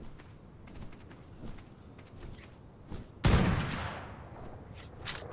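Gunfire in the modded video game ARK: Survival Evolved: quiet game ambience and soft steps, then a sudden loud burst of shots that decays into a rushing tail.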